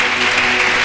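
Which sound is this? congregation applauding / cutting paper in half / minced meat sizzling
congregation applauding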